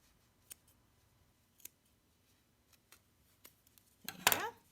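Scissors snip yarn loops on a small pompom ghost, with a few faint isolated cuts spaced apart and then a louder close cluster of snipping and rustling near the end.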